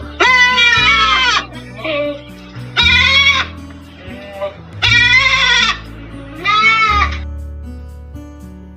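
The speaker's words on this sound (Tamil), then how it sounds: "ஆடு," A goat bleats four times in loud, close, wavering cries separated by short pauses, with faint background sounds between the calls.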